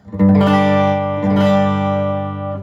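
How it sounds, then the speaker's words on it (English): A clean electric guitar on the neck pickup rings out two warm, sustained chords, the second struck about a second after the first, close and fairly loud. "that is going to be my clean tone"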